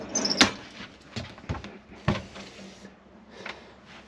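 A caravan's cutlery drawer slides and knocks with several wooden thumps and a small metallic rattle, close by, followed by quieter clunks.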